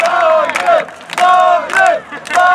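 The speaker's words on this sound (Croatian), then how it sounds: "Publika je poludila." A rugby sevens crowd at the Croatian Cup in Zagreb roars and chants in loud, rhythmic surges, voices rising together in repeated waves of cheering with brief dips between.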